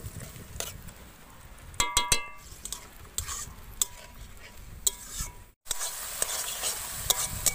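Spice paste simmering with a little water in a pan for a fish curry with ivy gourd, with a steady soft bubbling sizzle, periodic scrapes and clinks of a spoon stirring against the metal, and no talking.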